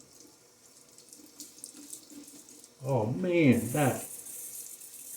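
Tap water runs steadily into a sink to work up shaving lather, a soft continuous hiss that keeps going under a short burst of a voice near the end.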